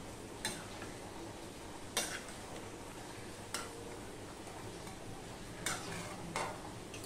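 A spoon stirs garam masala into food in a pan over a low gas flame, with a handful of sharp scrapes and taps against the pan over a faint background hiss.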